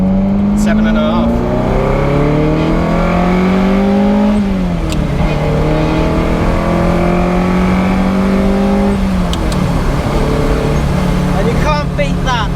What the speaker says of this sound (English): the second gear, just rev it through to